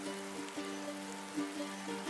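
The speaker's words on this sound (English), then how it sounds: "Speaking of which, it is raining today." Rain falls in the Viking survival game Dead in Vinland 2 as a steady, soft hiss that stays constant throughout, under a low sustained tonal backdrop.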